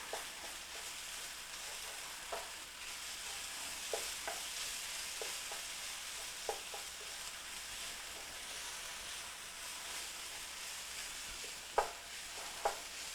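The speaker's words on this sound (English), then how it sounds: "Oh, the smell of onions and garlic frying in the pan is heavenly." Onions and garlic sizzle steadily in a pan while being stirred for stuffed eggplant. A spoon scrapes and taps now and then over the constant frying hiss.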